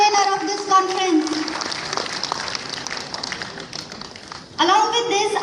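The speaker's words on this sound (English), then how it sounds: "A huge round of applause for our energetic and dynamic convener of this conference." Applause from a conference audience rises in a dense wash of clapping, carried along under a speaking voice with a loud spoken passage at the start and end.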